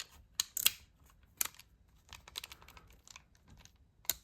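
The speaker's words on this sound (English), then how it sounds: "that locking ratchet really locks this stuff in there" Sharp, quiet ratcheting clicks from a Matco locking ratchet snapping onto a 1/4 inch square drive extension, a few separate close-up clicks and taps scattered over a few seconds with no talk.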